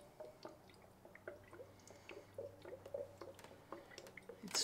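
Coolant bubbling and dripping while a 3.0 Duramax charge air cooler on a 2024 ZR2 is filled, soft gurgles and drips in a quiet close setting with faint liquid movement throughout.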